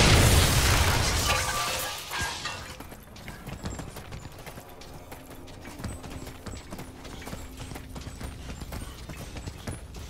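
A loud blast opens in the sci-fi shooter Bulletstorm, set on a planet where the crew is stranded, then fades into quieter rattling, clattering mechanical noise and scattered thumps, with no talking.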